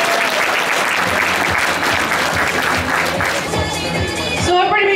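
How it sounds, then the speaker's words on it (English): Audience applause at a cosplay contest in a convention hall, loud dense clapping sustained throughout with some crowd noise mixed in. "So let's give them a big round of applause and thank them and welcome them to the stage"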